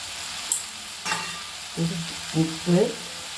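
Tomato being sautéed with asafoetida and turmeric for a neem-flower kuzhambu, stirred in a pan with a soft sizzle and a few separate scraping stirs, close and moderately loud, with no talking.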